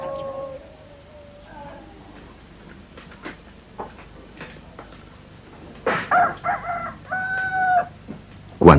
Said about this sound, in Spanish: Cuando canta el gallo